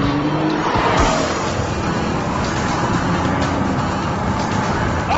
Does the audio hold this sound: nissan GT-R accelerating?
yes